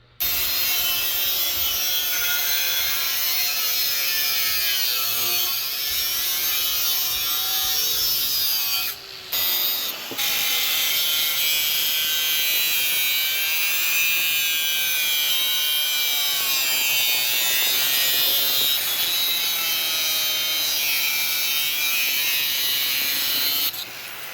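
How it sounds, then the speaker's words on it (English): Pieces for a homemade cup holder being cut, a long continuous rasping, grinding cut heard close and loud for over twenty seconds, with a brief pause midway and wavering pitch as the blade works through the material. "Now both pieces are cut."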